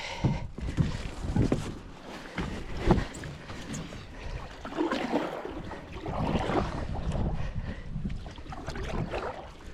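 A homemade cedar strip solo canoe runs small rapids on the Swan River in fresh snow, with rushing, splashing water and knocking paddle strokes loud and close throughout, and no talking.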